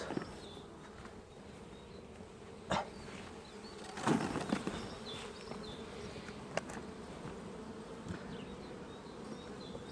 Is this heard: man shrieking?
no